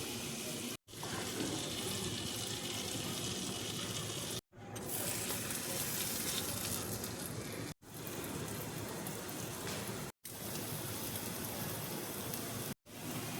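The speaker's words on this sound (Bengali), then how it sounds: "একটা দিক ভাজা হয়ে গেছে। আর একটা দিক আমি এবার উল্টে দিচ্ছি।" A moong dal batter-dipped sandwich fries in hot oil, giving a steady, close, hissing sizzle that runs continuously, broken only by a few brief cuts to silence.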